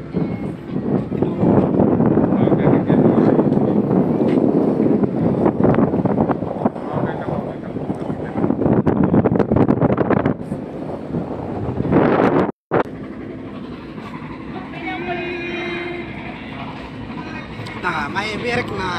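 Strong wind battering the microphone outdoors near a ferris wheel, a loud, continuous rumbling roar that cuts out briefly, then returns as a lower, steadier rush with faint background tones.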